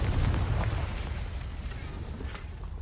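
Confringo fire spell exploding in Hogwarts Legacy, a steady low rumbling blast that roars through the clip with crackling bursts on top, fairly loud and without talk.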